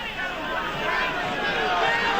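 Rugby league match crowd, Kangaroos versus Oldham in 1986, a steady roar of many voices calling out to the referee, dense and continuous throughout.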